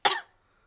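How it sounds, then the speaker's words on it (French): A cartoon pig gives a single short, sharp cough, close and clear, fading quickly into silence. "Mais regardez ce qui se passe quand je tousse."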